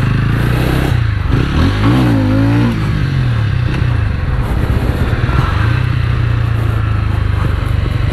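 A TVS Ronin motorcycle accelerating hard from a standstill, engine note climbing steadily through revs, loud and close throughout, with a brief rising whine early on and continuous mechanical roar after.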